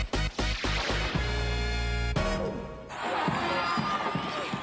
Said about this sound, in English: These are the sounds of Dwight Collins, 1996 Louisiana All-State High School running back playing football